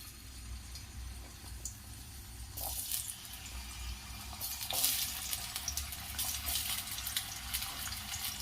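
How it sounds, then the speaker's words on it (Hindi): Potato pieces dropped into hot oil for a restaurant-style mixed vegetable dish, giving a steady close sizzle and bubbling that swells louder midway as more pieces hit the pan, with no talking. "दोस्तों तेल गर्म हो चुका है, इसमें सबसे पहले मैं आलू डालूंगी"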